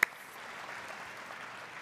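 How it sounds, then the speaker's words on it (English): An audience at the National Cherry Blossom Festival opening ceremony applauds, a faint, steady wash of distant clapping from a large crowd, opened by a single sharp click. "Give me an applause if you are."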